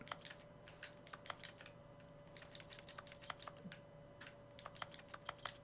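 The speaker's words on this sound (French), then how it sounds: "pourquoi ça fait des bruits de clavier où que je regarde" Keyboard typing plays as a sound effect in the video game The Stanley Parable, with quick irregular key clicks in scattered bursts over a low steady hum.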